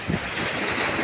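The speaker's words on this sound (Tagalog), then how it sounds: "yung alon niya" Sea waves wash against a shore where coconut palms are toppling, a loud, steady rushing surge mixed with wind buffeting the microphone.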